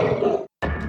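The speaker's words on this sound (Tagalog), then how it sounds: "At umangil pa yon." A creature's growl from an aswang horror story sounds as a rough, low grunting roar, cut off by a brief silence and then resuming with a strained, tonal edge; it is close and loud.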